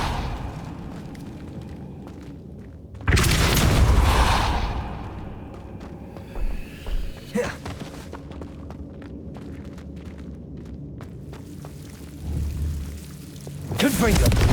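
A Depulso spell goes off in the game Hogwarts Legacy with a sudden loud blast and rumble that fades over about a second. Quieter thumps follow, then a second burst at the end, all over a low ambient game bed.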